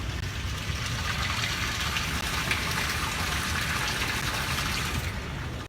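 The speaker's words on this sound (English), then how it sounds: "there's a freaking flowing creek right there" Constant rushing of a flowing creek heard nearby, a dense even wash of water noise with no break.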